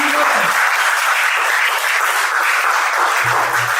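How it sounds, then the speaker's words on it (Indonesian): An audience applauds loudly and steadily throughout at a polytechnic talk show event, a dense wash of clapping with a brief low voice near the end. "beri tepuk tangan yang meriah buat"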